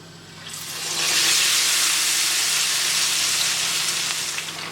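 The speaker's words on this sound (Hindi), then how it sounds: "तेल इतना गर्म होना चाहिए कि बीच में जैसे आप देखेंगे चिकन जाता है एकदम से ये हाई इसके जो बबल्स आने चाहिए" Marinated chicken pieces frying in hot oil, giving a steady, loud, hissing sizzle that swells within the first second and then holds evenly, with no talking.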